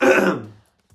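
A single short throat clearing, close and fairly loud, fading out quickly, followed by silence and a faint low thump at the end.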